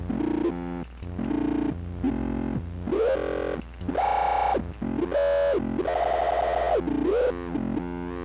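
A synthesizer sine wave with filter resonance turned all the way up plays a series of short, buzzy resonant notes with pitch sweeps and gaps between them, sounding squelchy and slightly distorted.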